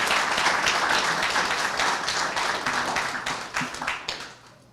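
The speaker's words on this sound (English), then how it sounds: "So let's give him a round of applause." An audience at a men's health summit applauds an honoree, with steady, fairly close clapping that gradually thins and fades out near the end.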